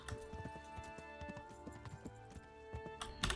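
Horse hooves clip-clop in a steady trotting rhythm in the game Kingdom Come: Deliverance, fairly quiet, over a faint sustained musical tone.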